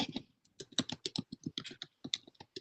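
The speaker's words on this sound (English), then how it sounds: "Typing furiously." Fast, furious typing on a computer keyboard: a rapid, uneven patter of sharp key clicks close by, heard alone with no talking.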